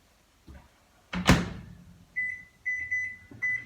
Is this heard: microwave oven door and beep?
yes